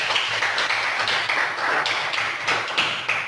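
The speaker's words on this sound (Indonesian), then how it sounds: "Kita berikan tepuk tangan untuk Fadila" A classroom gives applause for a student named Fadila: steady, close, fairly loud clapping from a group fills the whole stretch with a dense, even patter and no other sound.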